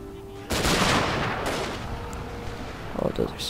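A sudden gunfire volley erupts in Shogun 2: Fall of the Samurai, a loud close burst of overlapping shots that rolls and fades over a few seconds, followed by scattered smaller pops and a voice talking.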